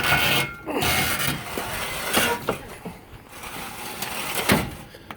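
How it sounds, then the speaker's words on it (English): An old truck's heavy bed is cranked by hand, giving a close, continuous run of rough grinding and ratcheting rasps with brief pauses and uneven surges. "you just hand crank the bed"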